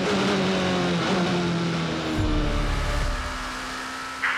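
Race car flying past during the WEC 6 Hours of Spa endurance race: a loud, sustained engine whine that holds high and then drops in pitch as it passes close by, alone without voices.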